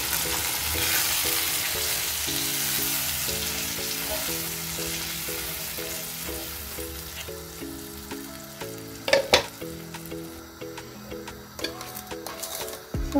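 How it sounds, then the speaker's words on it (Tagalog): Shrimp stock poured into a hot pan for Filipino palabok sauce, a loud hiss fading to a steady bubbling sizzle, with a few sharp clinks of a utensil near the end and no talking. "lalagay na natin ang ating shrimp stock"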